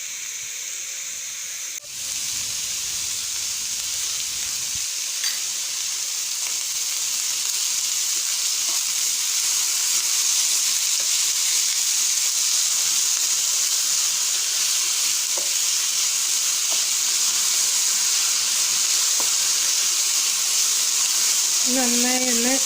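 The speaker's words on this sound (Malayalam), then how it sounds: "സവാള വഴന്നെടുക്കാൻ തന്നെ വെച്ചാൽ ഉപ്പിട്ട് കൊടുത്താൽ പെട്ടെന്ന് തന്നെ ആയിക്കിട്ടും" Sliced onions with salt sauté in a pan in a Kerala-style chicken dish, giving a loud, continuous close sizzle and hiss that holds steady throughout, with a brief voice near the end.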